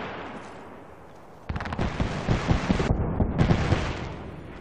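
Gunfire in the video game Apex Legends: after a quiet lead-in, a loud burst of rapid automatic shots with sharp cracks and booms rattles on close by for several seconds.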